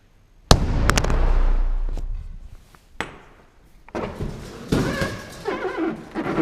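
Several sharp, heavy bangs ring out on a hollow hull, each with a resonant decay, followed by clattering knocks and scraping noises.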